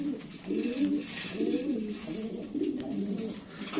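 Shocking breed pigeons coo in a close, low, rolling rhythm, several soft coos following one another across a few seconds.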